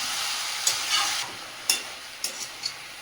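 Chicken with green chillies is stir-fried in a pan, a soft, even sizzle with a few brief scraping stir strokes, close and fairly quiet.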